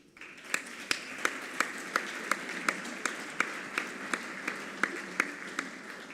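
Applause for jurors at an awards session comes through as a thin, fairly faint patter with distinct sharp claps standing out at a regular beat.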